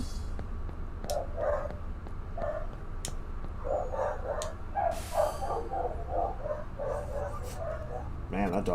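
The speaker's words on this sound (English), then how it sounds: "that dog's going for it" A dog barks in repeated quick bursts, some runs of rapid yaps in close succession, moderately near over a steady background hum with a few sharp clicks.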